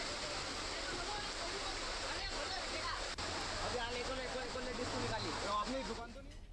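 Floodwater rushes through a street in Ujjain after continuous heavy rain: a dense, steady roar of flowing water, with a news voice talking over it nearly throughout.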